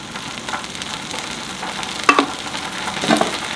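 Food frying in a pan on a portable camping stove late at night, a steady close sizzle with a few utensil clicks and stirring scrapes.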